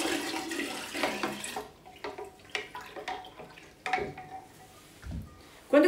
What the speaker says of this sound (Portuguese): Agora eu vou adicionar o chá pronto com o açúcar já